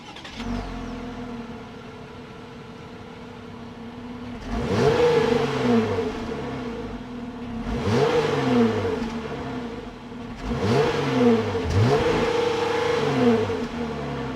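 A 2026 Jeep Wrangler Rubicon's 3.6-liter Pentastar V6 cranks and catches, then revs up three times in rising swells, each rev sweeping upward before dropping back to a steady idle; close and loud.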